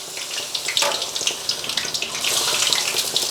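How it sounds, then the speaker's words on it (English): A noodle bird's nest fries in hot oil held in a sieve while oil is ladled over it, giving a steady bright sizzle broken by splashy pours. "basting it until it fries up nicely and goes crispy"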